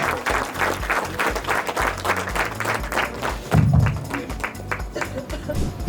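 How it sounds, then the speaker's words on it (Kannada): Loud audience applause at a company seminar, dense rapid clapping from a crowd sustained throughout, with a few thumps and voices mixed underneath. "ಜೋರಾಗಿ ಚಪ್ಪಾಳೆ."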